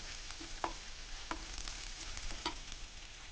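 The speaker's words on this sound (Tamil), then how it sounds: "இந்த வெங்காயம் ஓரளவு கொஞ்சம் கலர் மாறி வதங்கணும்" Oil sizzles steadily in a pan as onions sauté until browning, with a few soft clinks of stirring breaking through the constant frying hiss.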